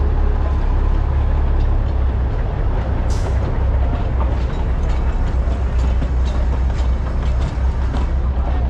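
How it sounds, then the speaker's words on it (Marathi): A train arriving at Matheran hill station rumbles steadily with a loud, continuous low roar and light clattering of wheels, close and sustained, with a brief high squeal early on. "माथेरान स्टेशनला आता ट्रेन आलेली आहे"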